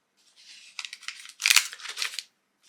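Plastic and foil advent calendar packaging crinkles close up in short bursts as it is opened, with a louder rustle midway and quiet between.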